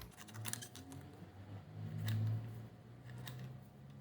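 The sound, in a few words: scissors cutting out paper squares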